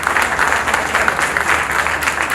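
A seated audience at a Lions Club International district event in Chennai bursts into steady applause, a dense wash of many hands clapping together that holds at an even, fairly loud level for the whole stretch.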